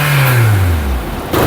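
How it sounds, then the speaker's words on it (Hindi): A Toyota Passo's engine is revved during a used-car inspection to check for exhaust smoke, a loud close rev that sweeps and falls away smoothly, then picks up again briefly at the end. "और इसको मैंने रेस दे के देखनी है कि क्या इसमें से धुआं तो नहीं आ रहा। मैं रेस देता हूँ"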